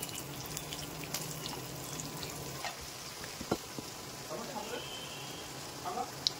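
Whole spices fry in oil and get stirred for a biryani, with a faint continuous sizzle and a few soft scrapes and clicks from the spoon. A quiet background hiss runs underneath.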